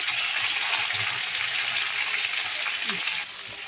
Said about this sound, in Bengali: চিংড়ি মাছগুলো লাল লাল করে ভেজে নেব।